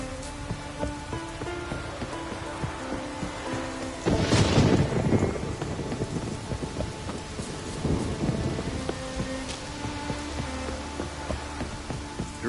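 Rain and a thunderstorm in The Witcher 3: steady, close rainfall throughout, with a loud thunder crack and rumble near the middle and a softer roll later, over faint sustained musical tones.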